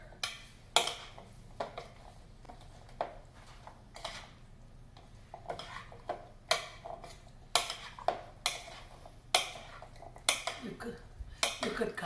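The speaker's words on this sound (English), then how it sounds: "now I'm going to give it a stir" A spoon stirs a three bean salad dressed with oil and fresh cracked pepper in a bowl, giving repeated close clinks and scrapes in an uneven rhythm with quiet gaps between strokes, without talk.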